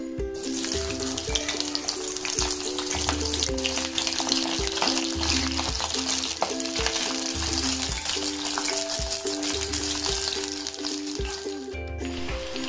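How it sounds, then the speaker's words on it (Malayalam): Blanched cauliflower frying in oil with a little salt over a medium flame, a steady close sizzle with fine crackling that carries on throughout, over a low constant tonal hum and no speech. "വെള്ളം വരാൻ വെച്ച കോളിഫ്ലവർ ഇതിലിട്ട് ഫ്രൈ ചെയ്തെടുക്കാം."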